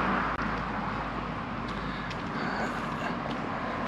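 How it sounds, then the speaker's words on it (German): Steady road traffic rumbles along a street in the town of Diepholz, a continuous wash of passing cars heard from nearby with no talking. "Es ist zwar jetzt einiges an Autos hier zu hören"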